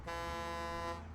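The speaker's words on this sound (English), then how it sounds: "Oh, you can honk." A vehicle horn in the video game Satisfactory gives one steady, buzzy honk lasting about a second, loud and close with no talking over it.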